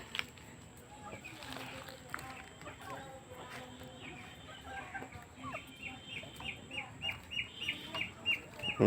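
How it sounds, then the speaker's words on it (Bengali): Free-ranging desi chickens cluck around a village yard, the calls sparse at first and then a rapid, regular run of close clucks toward the end, over background noise with someone talking. "এই যে এখানে মুরগি ঘুরতেছে"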